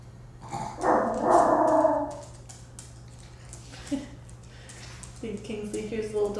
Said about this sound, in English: See, Kingsley hears the little dog outside, so apologies.